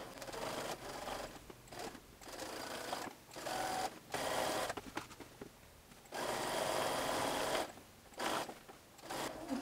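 A sewing machine stitching a pair of shorts, running steadily close up in several bursts of rapid mechanical whirring separated by short pauses, with no talking.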